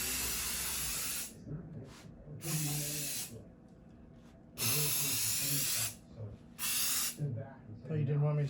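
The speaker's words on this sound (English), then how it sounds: "Might as well spray the rest." Bursts of spray undercoating hiss onto the tailgate of a 1952 PD4103 bus under restoration, several loud blasts of a second or more separated by pauses in which people talk close by.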